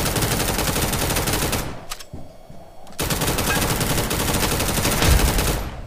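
Gunfire in a desert war shooter game, loud rapid automatic bursts that cut out for about a second, then resume in a long steady stream, close and without talk.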